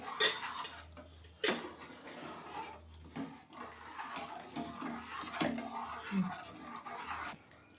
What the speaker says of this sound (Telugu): ఉండలు లేకుండా ఇవి మంచిగా నీట్గా కలుపుకోవాలి.